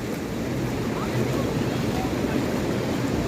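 Sea waves wash onto a beach at sunset, a steady loud roar of surf mixed with wind buffeting the microphone, continuous throughout.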